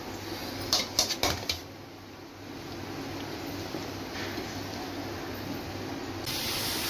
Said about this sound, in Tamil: இப்போ கடுகு நல்லா பொரிஞ்சு வரட்டும்.